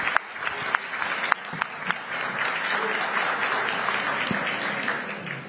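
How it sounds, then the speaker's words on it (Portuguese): Warm audience applause at a panel event on licence to operate and territories, a steady wash of clapping with a few sharper individual claps standing out early on, lasting several seconds. "pedir uma salva de palmas para a Mel"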